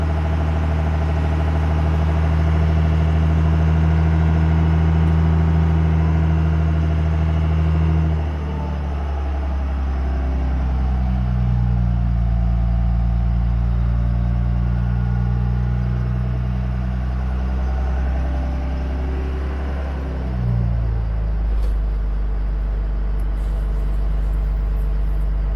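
A Ford King Ranch pickup with a Cummins diesel engine idles steadily up close, a deep droning rumble that shifts pitch a few times as the revs are raised and dropped, with no talking.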